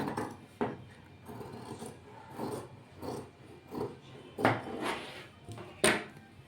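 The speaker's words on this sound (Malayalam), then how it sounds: "ഉള്ളിലുള്ള ക്ലോത്ത് ഒരു 1/4 ഇഞ്ച് ഗ്യാപ്പിൽ കട്ട് ചെയ്ത് മാറ്റുക" Scissors snip through cloth while trimming fabric close to a stitched kurti neckline, a series of soft, separate rasping cuts at irregular intervals, quiet and close.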